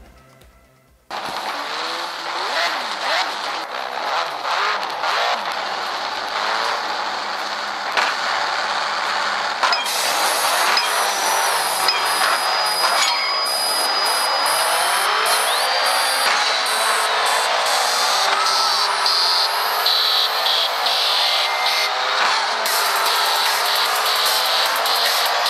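Racing car engines from the mobile game Need for Speed No Limits, played on a Vernee Mars Pro smartphone: a continuous loud revving roar with rising gear whines and shifting pitch, unbroken and without talk.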